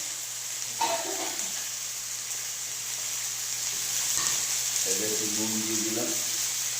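Beans, potato, radish and eggplant fry in a pan with a steady, moderate sizzle and a few stirring sounds, while a voice briefly speaks over it.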